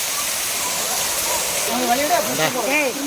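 Courtallam waterfall pours down in a steady, loud, close rushing roar that fills the clip, with voices talking over it near the end.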